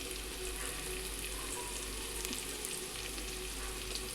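Onions browning in oil in a pan for egg biryani, a dense, steady sizzle and crackle close up, continuous with no voices.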